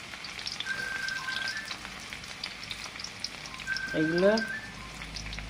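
Chopped onion, ginger and garlic frying in a pan, a continuous soft crackling sizzle, with a voice speaking briefly over it.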